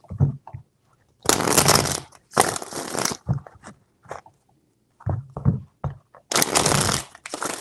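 Tarot cards are shuffled in three distinct bursts of rapid, papery riffling, each lasting under a second, separated by softer handling taps and small clicks in a quiet room.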